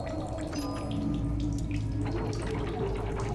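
Water runs and splashes steadily from a source in The Solus Project, a continuous close trickle with faint drips over it.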